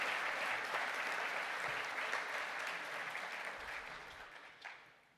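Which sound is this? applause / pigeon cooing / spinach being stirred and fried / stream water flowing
applause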